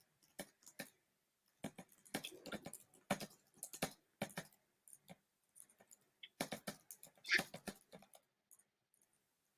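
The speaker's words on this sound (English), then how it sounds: "I can hear you typing." Someone types on a computer keyboard during a live NFL draft discussion, irregular bursts of quick, close clicks with short pauses between runs and no talking over them.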